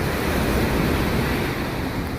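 Rough sea waves breaking on a beach in rainy weather make a steady, close, unbroken roar of surf with wind-like wash and no voices.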